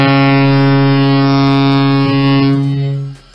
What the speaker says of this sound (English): This one uses compressed air, so you gotta hook 150 to 200 PSI to it, blast it through that diaphragm, and that's what produces that deep tone like this.